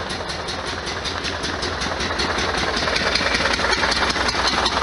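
A 1973 VW Super Beetle engine idles roughly up close, a steady but uneven low chugging with a slightly lumpy, pulsing rhythm and a faint rise in loudness near the end.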